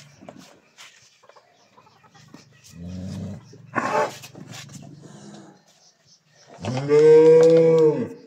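A Holstein Friesian cow lowing close by in a quiet farm setting, two deep moos, the second long and full, with faint background sounds in between.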